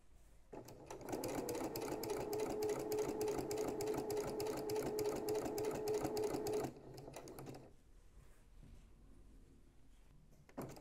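A sewing machine runs steadily for about six seconds, stitching one continuous line around the mitered corner of a fabric tea towel. The machine then stops and the room goes quiet.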